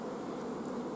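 Honey bees buzz at a hive entrance during a strong nectar flow, a close, steady drone of many insects with no voices.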